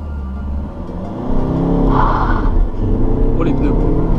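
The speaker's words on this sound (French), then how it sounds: "Faire un petit départ arrêté vite fait, voir comment ça chante." An Audi car launched hard from a standing start, its engine note rising into a loud, sustained rumbling roar heard from inside the car, with people talking over it.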